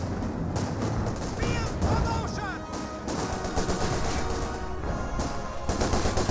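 Dense gunfire and explosions in the Company of Heroes strategy game as a German Panther tank comes under fire, loud continuous bursts of shots with crashes and a whistling shell, alone without talk.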